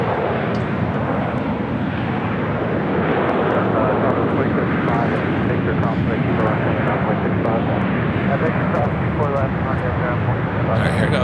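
An airliner jet roars steadily and loudly at LAX airport on a takeoff run from runway 24 right, the broad engine rumble filling the whole stretch without a break.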